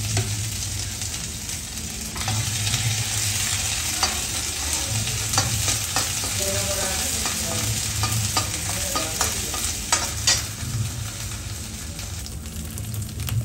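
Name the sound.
frying ajwain and marauthi in oil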